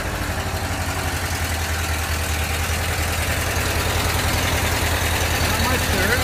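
A 1975 VW Westfalia engine idles steadily after a cold start, a continuous low rumble with an even, close throb that holds at the same loudness throughout.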